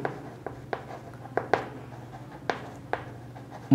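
Chalk or marker tapping and scratching on a classroom board as a definition is written during a physics lesson on lenses, a series of sharp, close taps at irregular intervals with soft strokes between, no voice.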